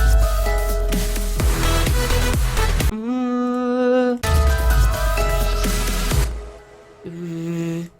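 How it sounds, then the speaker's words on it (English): A reversed synth lead washed in heavy reverb for a spooky Halloween electronic track swells in with sustained, bright tones, alternating with fuller backing passages and pausing briefly before a final quieter swell, with no voices. "Reverse lead, right here."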